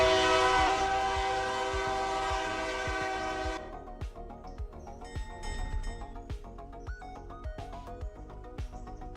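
A log train rolls past in the railroad game RailRoader, its loud horn blaring with stacked tones for the first few seconds, then giving way to rhythmic wheel clatter and rail clunks as the cars continue by.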